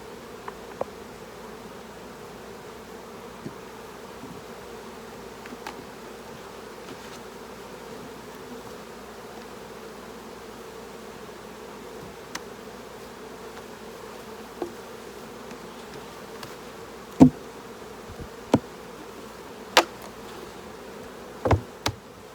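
Honey bees buzzing around an opened beehive during work on a brood box, a faint steady hum with a few sharp clicks and knocks of hive parts near the end.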